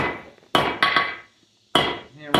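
Hand hammer striking hot metal on an anvil while drawing out stock for a forged miner's candle holder, sharp ringing blows in small clusters separated by pauses, close and loud.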